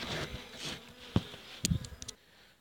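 Local Carpathian honeybees buzz around an opened hive in an apiary, a soft, steady hum with a few louder bees darting close to the microphone.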